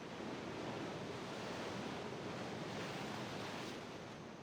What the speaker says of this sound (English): There was the sound of splashing